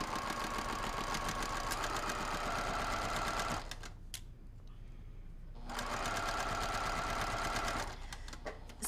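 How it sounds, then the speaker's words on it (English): Sewing machine stitching through a pinned quilt block, a steady fast mechanical whir running for several seconds, pausing briefly, then resuming at the same close, even pace. "So I have it all pinned, and I'm gonna sew."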